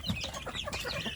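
Free-range village chicks in a rearing box cheep in a continuous, busy chorus of high, overlapping calls, close by and fairly soft, with no talking.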